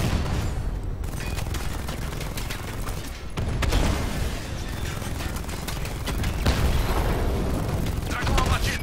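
Tank cannon blasts and explosions rage in a militia battle in Batman: Arkham Knight, dense booming fire and mechanical rumble continuing without pause, loud and close.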